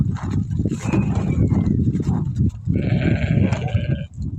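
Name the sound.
sheep bleating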